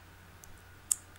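Computer mouse clicks during desktop use, one faint tap followed by a sharper, louder click, close and dry over a quiet room hum.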